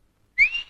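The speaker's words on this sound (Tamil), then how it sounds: "உங்க பொண்ணு உங்களை விசில் அடிச்சு கூப்பிடுது?" A single short whistle from a person calling someone, rising in pitch and then holding briefly before it fades, heard alone after a moment of quiet.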